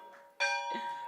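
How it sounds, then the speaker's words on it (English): A bell is struck once at a stock exchange listing ceremony, its bright metallic clang ringing out loud and close, then a second tone following as the ring fades, with no voices. "ring the bell."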